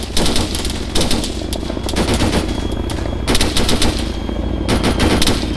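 ARMA 3 machine gun fire, sustained rapid automatic bursts, loud and close, swelling and easing in several waves with distant battle noise underneath.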